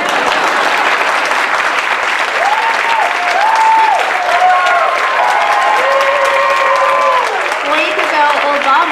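Sustained audience applause at a book award finalist reading, a dense wash of clapping across the whole stretch with crowd noise and some voices or whoops mixed in.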